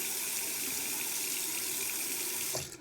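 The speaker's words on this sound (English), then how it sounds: "I am going to turn on the faucet using a paper towel." A kitchen faucet running steadily into a sink, a close, continuous rush of water that stays even throughout before cutting off abruptly at the end.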